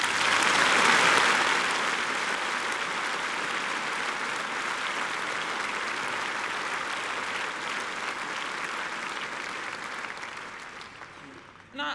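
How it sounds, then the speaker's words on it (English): At an Imperial College London Faculty of Medicine Commemoration Day ceremony, a hall audience gives a long round of applause that starts loud, settles into a steady wash of clapping and tapers near the end. "with a round of applause."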